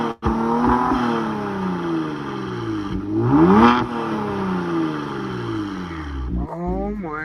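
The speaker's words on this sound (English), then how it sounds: "Or you're gonna rev it up?" A car engine revving repeatedly, with rising and falling pitch sweeps and a loud peak midway, heard close and fairly loud, with a voice speaking in between.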